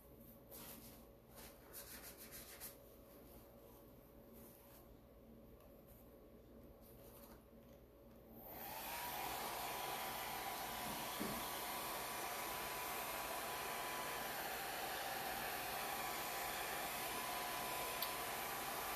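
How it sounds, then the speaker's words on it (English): A hair dryer blows on wet paint on mixed media paper hearts. Soft rubbing and faint handling come first, then the dryer switches on as a steady, close, whooshing hum that continues unbroken to the end. "Little more hair dryer."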